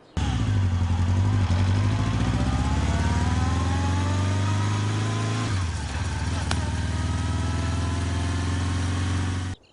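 A motorbike engine revs steadily, its pitch climbing, then drops to an idle, with a short clatter before it cuts off.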